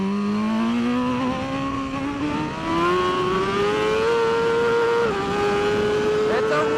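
Onboard sound of a superbike at full race pace during a practice session, its engine note climbing steadily through the revs with a brief shift dip, loud and close with some talk mixed in.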